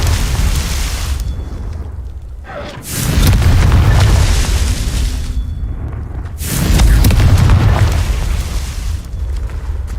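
Confringo fire spell blasts booming in Hogwarts Legacy, two heavy explosive bursts a few seconds apart, each with a loud low rumble that swells and lingers over an ongoing game ambience.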